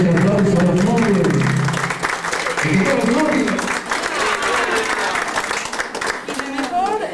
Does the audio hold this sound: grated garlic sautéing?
no